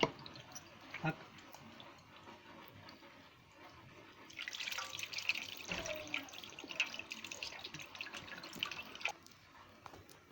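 Running water splashes over Aashirvaad wheat flour dough as it is rinsed by hand, faint dripping and trickling at first, then a louder wet gush of tap water and squelching handling near the middle.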